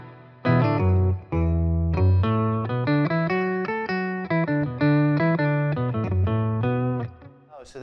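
Electric guitar run through the octave effect of a Boss Katana 50 MkII amp, playing a loud sustained riff of distorted notes with a thick doubled low octave beneath them, steady and close.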